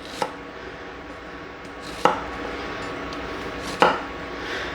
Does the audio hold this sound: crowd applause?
no